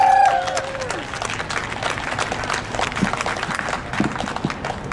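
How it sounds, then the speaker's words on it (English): A rally crowd gives a round of applause and cheers, a dense wash of clapping that starts loud and settles into a steady, moderate din, with a brief tone at the start. "Can we get another fucking round of applause for that?"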